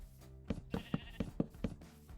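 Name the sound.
sheep bleating in a video game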